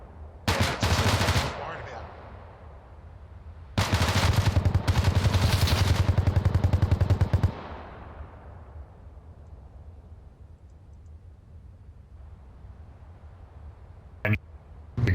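Enemy gunfire in a military video game: a short automatic burst, then a longer sustained rapid-fire volley, each fading into a rumbling tail, followed by a couple of brief, sharp shots near the end.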